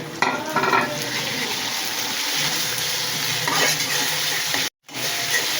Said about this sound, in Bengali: নাড়া দাও।